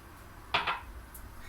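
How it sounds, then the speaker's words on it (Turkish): A glass of granulated sugar tipped into homemade plum juice makes one brief, fairly close rustling clatter midway, with quiet room tone before and after. "Şöyle bir su bardağı toz şekerimi ekliyorum."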